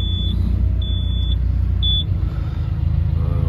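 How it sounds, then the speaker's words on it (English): Three evenly spaced high-pitched beeps sound from a rubber duck wheel excavator over a steady, loud engine rumble, then the beeping stops while the motor keeps running. "why that beeping so much?"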